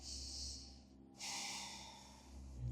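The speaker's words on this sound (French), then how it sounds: "Prenez encore une longue respiration." Long deep breaths during a yoga flow, with a slow breathy inhale followed by a fuller, louder airy exhale, close and alone in a quiet room.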